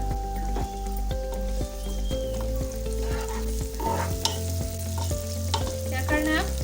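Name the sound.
onions frying in oil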